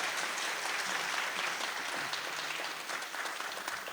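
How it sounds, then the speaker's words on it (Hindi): Live stage audience clapping at a Haryanvi music and storytelling show about Kabir, a dense steady wash of applause sustained for the full stretch with no talk over it. "ताली बजाने पता चल जाएगा अगर हाँ"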